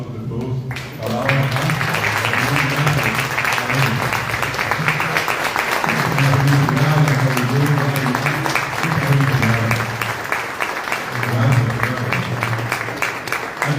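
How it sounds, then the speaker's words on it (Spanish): A standing audience applauds honorees at a tribute event in Asunción's Ateneo Guaraní, steady dense clapping sustained for over ten seconds, with voices and a low hum of talk running underneath. "le pedimos un fuerte aplauso de todos"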